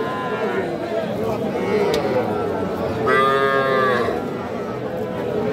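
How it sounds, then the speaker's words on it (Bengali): Young bull calves mooing at a busy cattle market, two clear drawn-out moos close by, with people talking in the background throughout. "এই যে দুইটাই কিন্তু ষাঁড় বাছুর দর্শক।"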